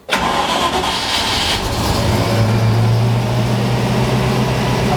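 A car engine cranks and catches with the choke about three-quarters on and no throttle, settling at once into a steady, loud, close idle with a low hum that holds for several seconds.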